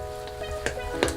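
Seasoning base for Haitian epis stirred into about half a cup of hot oil, a steady close sizzle with two brief scraping stir strokes rising above it.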